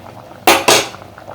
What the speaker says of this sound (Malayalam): ഇത് അടച്ച് വയ്ക്കാം.